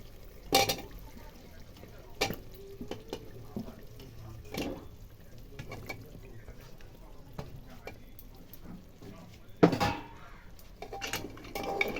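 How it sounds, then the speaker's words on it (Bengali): Potatoes and tomatoes tipped into duck curry in a pressure cooker, with scattered clanks of a spoon and pot, soft thuds of pieces dropping in and a faint background sizzle. "এবার আমি এর মধ্যে দিয়ে দেব আলু আর টমেটো।"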